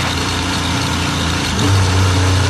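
A Formula 1 car belonging to Yuki Tsunoda at the 2023 Singapore Grand Prix, running with a suspected puncture after contact, gives a loud, close, steady engine drone that swells and rises in pitch near the end.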